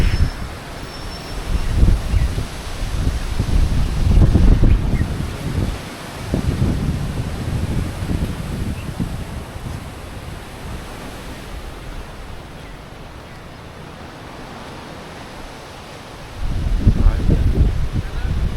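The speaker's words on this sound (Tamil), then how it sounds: "பயங்கர மழை பயங்கர புயல் மாதிரி வீசுது" Strong storm wind gusting with heavy rain roars and buffets the microphone in waves, easing in the middle before surging again near the end.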